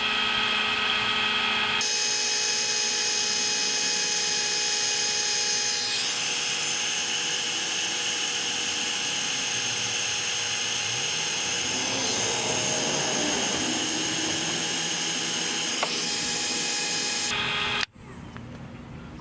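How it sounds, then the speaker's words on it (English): A Milwaukee cordless heat gun runs continuously with a steady fan whine and rushing air, shifting slightly in tone as it is moved, then cuts off near the end. "Got this sweet Milwaukee cordless heat gun. We're going to try this thing out."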